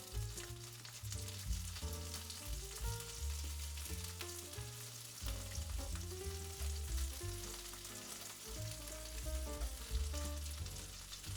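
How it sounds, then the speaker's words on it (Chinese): Large shrimp fry slowly in a pan over low heat: a steady, gentle sizzle with scattered crackles throughout, under prominent background music. "就可以把大虾放进去。 转小火，慢慢的煎"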